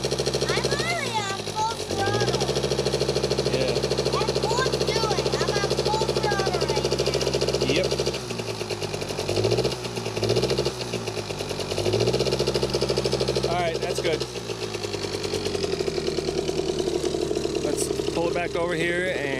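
A child's quad bike engine is held at full throttle nearby, droning steadily with several dips and surges in pitch, while a person talks over it.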